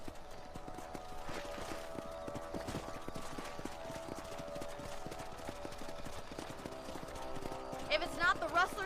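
Steady rhythmic hoofbeats of horses galloping in the video game Red Dead Redemption continue throughout, with a brief whinny-like flourish near the end.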